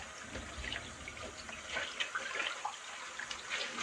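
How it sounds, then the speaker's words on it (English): Tap water runs steadily into a sink while someone rinses off after a shave, a close, continuous broadband splashing with small irregular surges and no voices. "Rinse off real quick."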